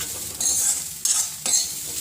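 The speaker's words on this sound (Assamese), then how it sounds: "কাজু বাদাম আৰু খিচমিচখিনি দি দিম ইয়াতে দি দিলোঁ আৰু দিয়াৰ পাছত অলপ সময় ভাজি থাকিম" Cashew nuts and raisins frying in a pan, a steady close sizzle broken by three bursts of bright stirring scrapes, alone with no talk.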